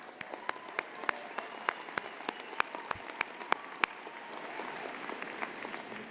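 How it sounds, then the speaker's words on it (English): An audience at a University of Calgary convocation ceremony claps in a large hall, a run of sharp, distinct claps at first that thickens into steady, moderately distant applause. "I think that deserves a cheer."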